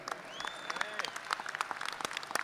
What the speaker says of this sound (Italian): Vi chiedo di ringraziare con un grande applauso tutti quelli che hanno lavorato per organizzare questa manifestazione.